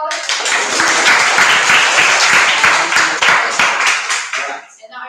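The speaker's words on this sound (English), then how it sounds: "Everyone, give yourself a big applause." Classroom of schoolchildren clapping together in a dense, lively burst of applause that fills the room, then thins out and trails off at the end.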